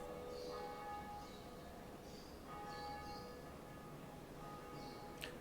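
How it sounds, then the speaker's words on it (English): The Bell of Awakening tolls in the video game Dark Souls, a resonant church-like bell struck several times in slow succession, its long ringing tones overlapping over a low ambient rumble. "This is the bell. I must ring the bell!"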